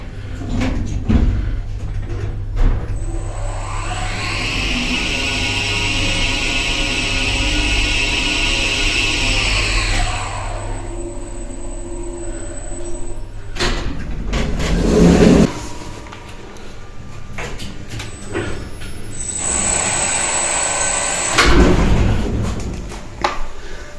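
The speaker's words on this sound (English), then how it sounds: "I want to first remind you of what an Arona worm drive is normally like with a VF drive." An Arona worm drive lift motor running under a VF drive: a smooth electric whine that ramps up, holds and winds down, then a second run after clunks and door thuds from the lift, fairly loud and close.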